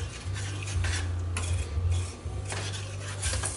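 Bourbon sauce ingredients stirred together in a pan over low heat, a close continuous scraping and clinking of utensil against metal, with no talk.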